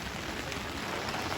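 Rain falls steadily at an outdoor track meet, a continuous dense hiss of drops on surfaces with no break, moderately loud and without voices.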